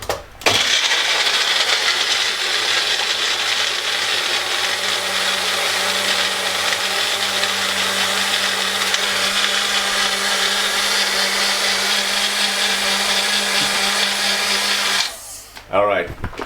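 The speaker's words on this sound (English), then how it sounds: "and then blender." Loud, steady whir of a blender grinding ice for a protein smoothie for about fifteen seconds, starting and stopping abruptly with a brief clatter at the end.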